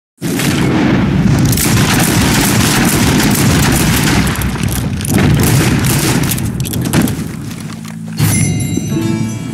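In the video game Red Dead Redemption 2, a loud booming gunshot blast is followed by sustained rumbling noise. The sound is dense and close and fills the whole stretch with no speech.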